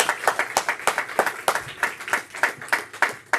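A church congregation claps together during a Sunday service, a fairly loud run of rhythmic, sharp hand claps that continues steadily throughout.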